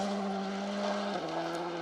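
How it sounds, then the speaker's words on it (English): A Skoda Fabia rally car sliding sideways on a gravel stage, its engine note holding steady then dropping as it drifts through, fairly close and alone without talk. "Here he is in the Skoda Fabia, fantastic looking car, setting it up, throws it sideways."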